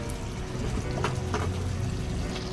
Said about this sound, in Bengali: আর একটু পরিমাণ মতো অল্প করে জল দিয়ে দিলাম।